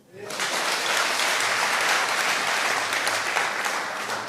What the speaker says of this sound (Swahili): Tuwapige makofi.